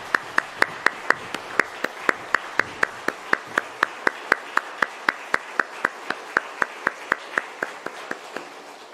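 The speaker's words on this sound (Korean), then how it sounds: "다시 한번 박수하겠습니다" Steady, even clapping from a church congregation, with sharp regular claps repeating throughout at a moderate pace and no voices over it.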